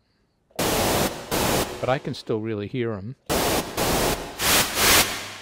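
Filtered noise from a Haken Continuum running the EaganMatrix engine, its highs shelved down, comes in loud broadband hissing bursts with a pulsing rhythm that drop away while someone talks, then resume.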